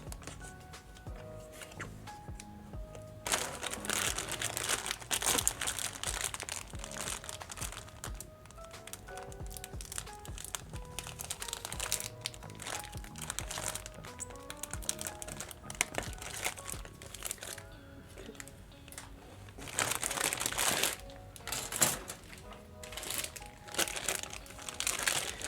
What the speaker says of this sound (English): let's get the parts out of the plastic bag prison